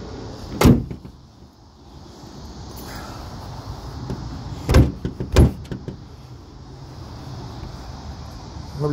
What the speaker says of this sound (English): Let's close the hood.